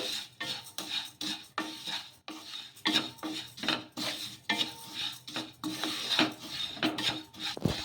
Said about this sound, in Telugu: ఒక కప్పు గోధుమ రవ్వ వేసుకొని దీన్ని కూడా కొద్దిసేపు ఇలా వేయించేసుకుందాము రెండు కలిపి